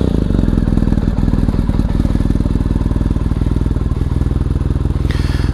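A BMW R1250GS motorcycle with a BT-MOTO Stage 1 flash idles close by, a steady loud rhythmic boxer-twin chug with mechanical clatter throughout.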